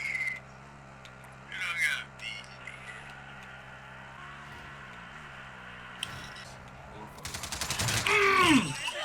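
Gunfire in the video game Warzone, with a loud burst of rapid shots near the end after quieter game sounds and scattered effects, while players talk over the action.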